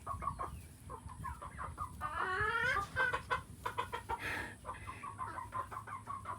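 Chickens, including a chocolate silkie, clucking and squawking in a busy flock nearby, with a louder drawn-out call partway through over a steady background hum.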